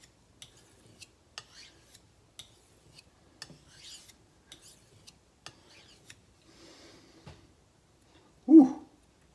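A kitchen knife is drawn across a single whetstone in a series of short, sparse scraping strokes, each a quick rasp, with a louder thump near the end; quiet and close, no talk.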